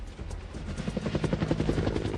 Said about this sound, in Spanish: decidieron enviar contra la Medina 30 helicópteros Apache Longbow, equipados con misiles de precisión Hellfire